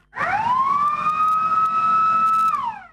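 A fire engine siren wails as the crew sets off urgently to a stubble fire at an abandoned farm, one loud sustained rising and steady tone lasting nearly three seconds before dropping away.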